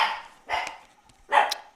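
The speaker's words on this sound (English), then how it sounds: "All my dogs are barking." Dogs barking indoors at home, three separate loud bursts of barking spaced about half a second apart, close and sharp with short gaps of quiet between.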